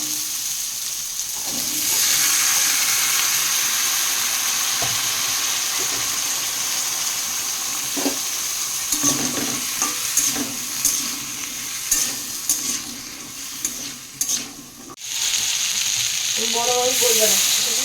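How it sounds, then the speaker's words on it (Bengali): Potato curry fries in oil with a nigella seed tempering, a steady, loud sizzle with the occasional scrape of stirring, a brief dip near the end, then the hiss resumes. "সেই জন্য তেল আর কালো জিরে ফোড়ন দিয়েছিলাম"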